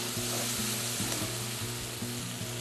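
Beef stroganoff ingredients with chili flakes, salt, black pepper and mustard powder fry in a pan, giving a steady close sizzle with soft stirring scrapes throughout.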